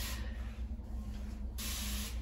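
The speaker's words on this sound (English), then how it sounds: "I'm gonna go ahead and spray my hair" A spray bottle of aloe vera water mists onto natural hair in two close, soft hissing bursts, one at the start and one near the end.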